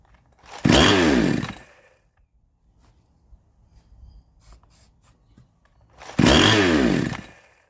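A 52cc Chinese chainsaw being pull-started that isn't getting fuel: two loud, rough bursts of engine noise a few seconds apart, with quiet fiddling between them.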